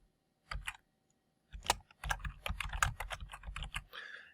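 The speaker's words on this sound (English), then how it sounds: "I can type my text here" Keys clatter on a computer keyboard, one short burst of clicks followed by a pause, then a denser run of rapid, close tapping that continues steadily to the end.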